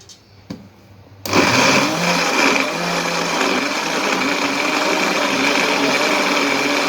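A blender whirs into life after a couple of faint clicks and runs loudly and steadily, its motor grinding garlic and ginger close by.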